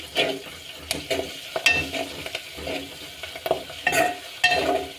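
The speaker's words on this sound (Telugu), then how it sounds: "నెక్స్ట్ అల్లం వెల్లుల్లి పేస్ట్ వేస్తున్నా, మంచిగా కలుపుకోవాలి." Ginger-garlic paste being stirred into prawns frying in a pan. A utensil scrapes and knocks against the pan in irregular strokes over steady oil sizzle, close and moderately loud, with no voices.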